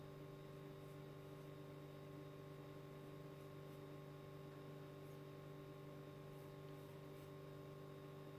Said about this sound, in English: You're hearing the gentle hum of my fridge.